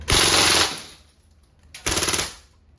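Two loud full-auto bursts from a Crosman A4-P CO2-powered airgun firing steel balls, each a rapid rattling string of shots about half a second long, separated by a quiet pause.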